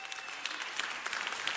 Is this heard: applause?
yes